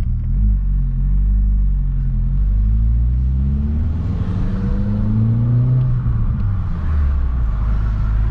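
A 1.8T car engine drones under load while driving, a loud close rumble with rising and falling revs as it pulls through the gears, no talking.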